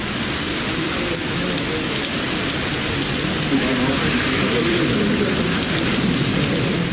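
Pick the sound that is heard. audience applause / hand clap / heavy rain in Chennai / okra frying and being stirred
heavy rain in Chennai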